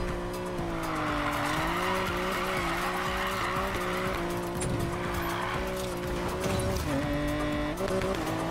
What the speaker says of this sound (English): Let's see if we can speed the drift.